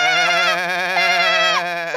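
Goat bleating as a sound effect in a children's story, one long wavering bleat with strong vibrato, close and loud, alone.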